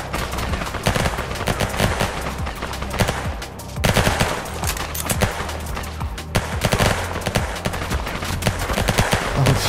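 Sustained rapid automatic gunfire in the video game Ark, dense and loud throughout with bursts overlapping continuously and only a brief dip in intensity.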